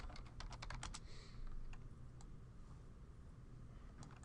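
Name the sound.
typing on a computer keyboard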